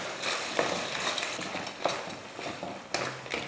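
Spice masala and fried vathal being stirred into onions and tomatoes in a pan for vathal kuzhambu, a steady scraping and light sizzle with a few sharper spoon knocks against the pan, close and alone.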